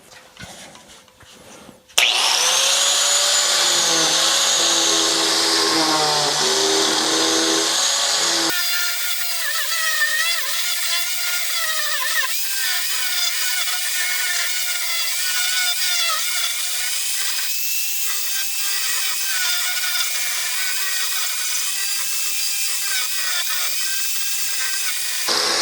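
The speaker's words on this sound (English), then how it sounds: "I'm going to be using the Arbortech hole gouge, ball gouge I guess you call it, to kind of hollow out the rest." An Arbortech ball gouge power tool hollows out a carved wooden pot, giving a loud continuous whirring grind with shifting pitch as it cuts, running steadily for over twenty seconds after a brief start-up.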